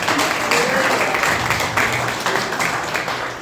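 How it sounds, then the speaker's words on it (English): Crowd applause at a rural campaign rally for a Senate candidate, loud and sustained clapping from a large audience filling the space, with cheering voices blended into the roar. "give yourselves a round of applause"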